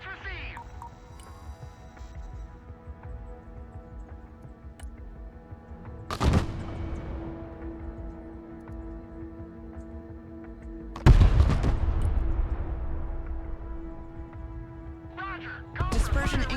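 Three heavy artillery rounds boom at spaced intervals across a Broken Arrow training ground, each a sharp loud blast with a decaying rumble, over a quiet steady hum and occasional speech.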